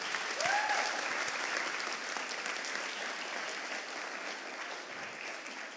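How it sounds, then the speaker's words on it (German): A large audience applauds at a German award show, a sustained round of clapping that starts strong and slowly fades, with a faint whistle near the start. "also bitte einen ganz besonderen Applaus."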